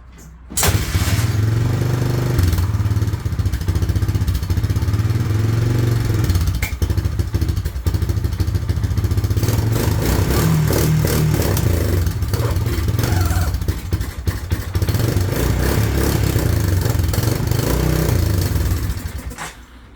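A 1998 Honda 300 4x4 ATV that sat unused for years runs steadily near the mic, with a loud, continuous low engine drone and mechanical clatter for the whole stretch before it cuts out at the end.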